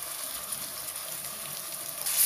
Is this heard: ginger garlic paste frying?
yes